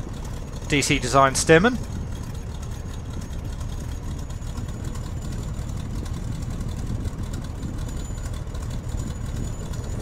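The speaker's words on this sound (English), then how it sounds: "that engine sounding lovely as we come back off the power" A PT17 Stearman biplane's engine, made by DC Designs and Just Flight for Microsoft Flight Simulator, idles in a steady, low, droning rumble after power is pulled back. Someone speaks briefly at the start.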